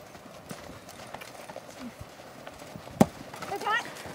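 Horse hooves clip-clop in a steady gait while a rider works a horse among other players, with faint voices calling and one sharp knock partway through.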